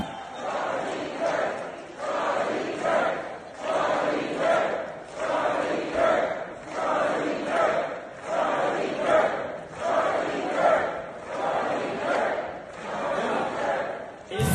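Large crowd gathered indoors at a Turning Point event at UC Berkeley, a dense steady roar of many voices swelling in rhythmic waves like chanting, loud and continuous throughout.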